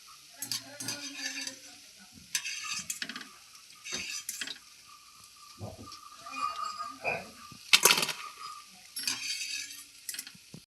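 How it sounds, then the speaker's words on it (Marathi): Pea nuggets deep frying in hot oil give a steady soft sizzle, broken by repeated metallic clinks and scrapes of a utensil against the pan as they are turned. "अशा प्रकारे आपण सगळेच नगेट तळून घेऊ"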